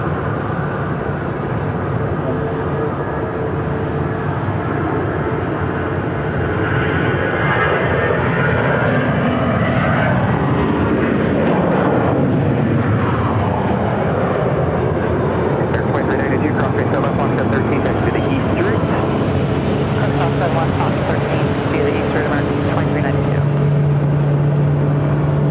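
A fixed-wing airliner takes off from runway 7 right at Phoenix airport, its jet roar swelling and shifting in pitch as it passes and climbs away, loud throughout, with radio chatter and a voice talking over it.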